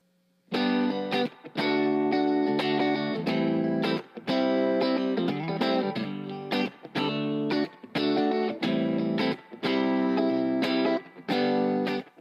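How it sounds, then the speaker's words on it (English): A distorted, effects-heavy electric guitar strums a repeating I-V-ii-IV chord progression in G, each chord hit in short bursts with brief gaps, loud and steady throughout. "if we're playing a 1, 5, 2, 4 progression, which would sound like this."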